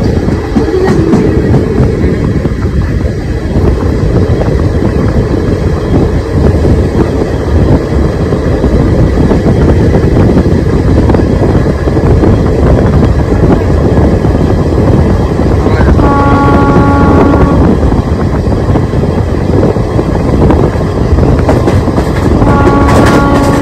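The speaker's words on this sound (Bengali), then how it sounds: "আমাদের ট্রেন ছেড়ে দিল গঙ্গারামপুর।" The 13431 Balurghat Express pulls out of Gangarampur, loud and close from on board, a continuous roar of wheels with clickety-clack on the rails and brief tonal whines mid-journey.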